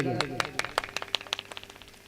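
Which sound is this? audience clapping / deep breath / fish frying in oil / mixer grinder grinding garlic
audience clapping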